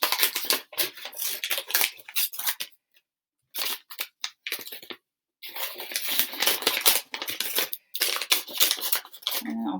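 Scissors snipping through holiday wrapping paper in bursts of crisp, crunchy cuts, with short pauses between runs, close and fairly loud with no talking.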